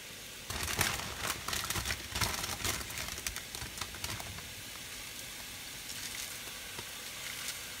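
Peanuts and mushrooms fry together in a pan for pho, giving a loud, steady sizzle with bursts of crackling and stirring early on that settle into an even hiss.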